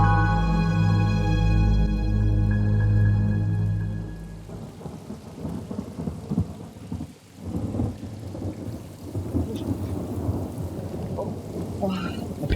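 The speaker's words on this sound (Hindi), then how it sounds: "देखिए कितनी तेज बारिश हो रही है" Heavy rain pours down with loud rolling thunder at the start, then a steady dense rainfall roar with sharp drops continuing to the end.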